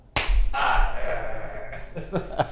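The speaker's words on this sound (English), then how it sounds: "I need to get a good clap" A single sharp hand clap rings out near the start, loud and close, with a short decay, followed by a couple of softer taps and a brief voice near the end.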